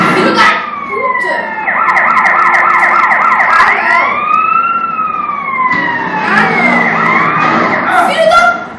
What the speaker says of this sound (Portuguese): se ligar essa sirene, vai ficar muito bom